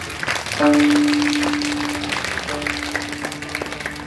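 A kirtan audience claps together at a week-long Shiv-naam gathering in Barasgaon, a dense patter of hands rising suddenly and continuing steadily over a sustained drone tone, with scattered sharper claps toward the end.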